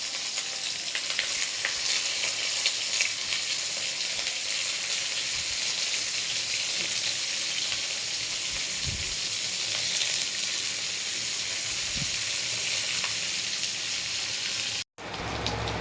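Dried fish fritters (shutki bora) frying in a pan of splattering hot oil, a loud, steady dense sizzle with scattered pops throughout, no voices.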